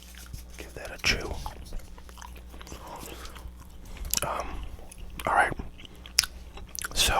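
Gum being chewed close to the mic in a quiet room, with soft wet mouth clicks and a few louder bites spread through the stretch, while a person speaks briefly.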